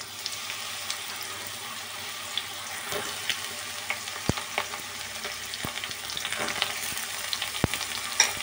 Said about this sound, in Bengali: বেগুনটাও ভালো করে ভেজে নিচ্ছি